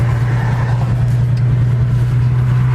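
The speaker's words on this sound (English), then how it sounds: "this LA traffic, man, it's a different breed" Los Angeles road traffic hums around a car, a steady low engine drone with a constant rumble and faint passing vehicle noise, close and unbroken for a few seconds.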